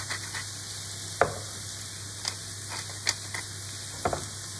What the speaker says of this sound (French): Je remue et je laisse suer